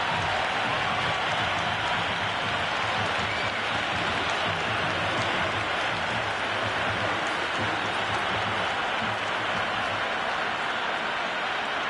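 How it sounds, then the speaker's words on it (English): A packed cricket stadium crowd at a T20 final keeps up a dense, continuous roar of cheering and applause at steady loudness throughout, with no commentary voice standing out. "There's a buzz, a real buzz coming from the stands."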